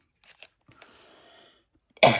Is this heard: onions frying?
no